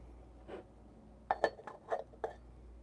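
A clear glass is handled near a DF64 Gen2 coffee grinder, giving one soft knock followed by a cluster of four or five sharper clinks and taps, close by and fairly quiet, with no speech.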